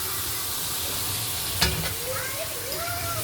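Marinated chicken pieces drop into a pan of softened frying onions with a sudden hiss, then settle into a steady sizzle and frying crackle as they are stirred, close and fairly loud, with faint tonal squeaks.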